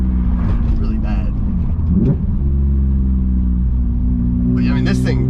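A BMW E36 with a swapped S54 engine revs and pulls hard, a loud close growl that climbs in pitch midway, with a voice talking briefly over it.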